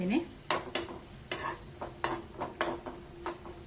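Grated coconut being fried in a pan for sweet jaggery rice, with a utensil clattering and scraping against the pan in irregular bursts, a faint sizzle underneath, and no talk.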